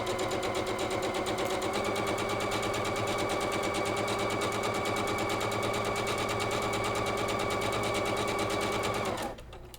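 A sewing machine stitches a quilt block in a fast, even, continuous rattle, loud and close, then stops abruptly at the end.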